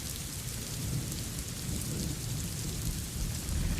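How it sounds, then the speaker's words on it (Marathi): Heavy rain pours steadily in Kolhapur in a dense, loud hiss, with deep rumbling underneath throughout; no voices. "आपण पाहतोय दमदार पावसानं हजेरी लावली आहे कोल्हापूरमध्ये"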